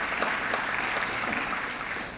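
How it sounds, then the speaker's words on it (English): Crowd applause at a high school graduation ceremony in East Hartford, welcoming Mayor Marsha LeClaire; steady, moderately distant clapping without clear individual claps. "Give her a round of applause."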